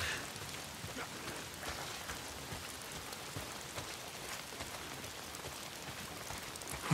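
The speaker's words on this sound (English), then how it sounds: "If it's not the freaks, it's the goddamn rain." Steady, dense rain patters on surfaces in the video game Days Gone, a continuous hiss with scattered drop ticks, fairly quiet and unbroken throughout.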